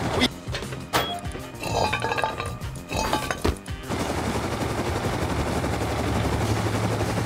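Gunfire in the survival video game Rust: rapid bursts of shots with sharp metallic clinks in the first few seconds, then a steady loud rumble of engine or rotor noise for the rest of the clip.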